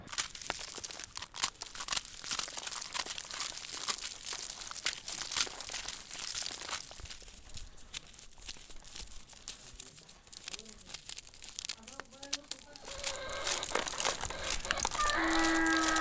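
Dry husks rustle and crinkle close up as corn is prepared by hand for an evening meal in rural Oaxaca, Mexico, with scattered tearing and crunching and faint voices in the background.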